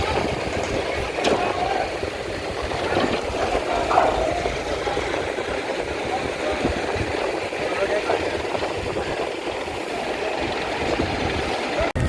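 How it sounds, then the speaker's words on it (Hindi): An up-line train on a railway line near a bridge girder-launching site, a continuous mid-level rumble and engine drone with faint clatter over about twelve seconds, heard at moderate distance amid site noise. "ये अपलाइन की ट्रेन है"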